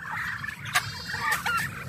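Free-ranging native chickens, turkeys and ducks in a rural yard call at moderate distance, with overlapping clucks and gobbling bursts and a few sharper squawks over a low background murmur.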